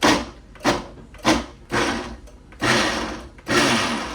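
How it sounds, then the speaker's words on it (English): A blender chopping garlic into chunks for spice jars runs in five short pulsed bursts, each a loud whirring grind that starts abruptly and fades, with brief quieter pauses between them, close up and without voices. "Who needs a food processor when you have a blender?"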